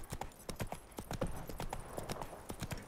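Hooves of the horse Roach galloping in The Witcher 3, a steady rapid clip-clop rhythm of sharp strikes, close and fairly loud, continuing without pause.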